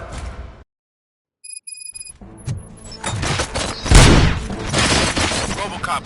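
After a brief silence, a burst of loud, rapid gunfire and impacts erupts, with several heavy blasts building to a peak in a noisy, chaotic scene from the video game RoboCop: Rogue City.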